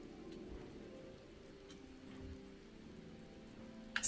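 Rain in the video game Final Fantasy XIV (Shadowbringers) falls as a soft, steady patter, quiet and continuous in the background, with a brief louder bump at the very end.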